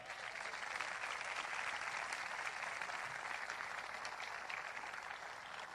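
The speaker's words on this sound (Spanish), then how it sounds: "Denle un aplauso fuerte" A church congregation applauds loudly and steadily, a dense wash of many hands clapping at once, sustained at even strength from start to finish with no voices standing out.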